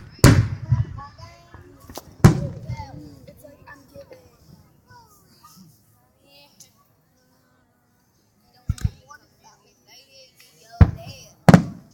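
Sharp fireworks bursts over water boom in scattered clusters, loud and close, with children and adults chattering between the blasts.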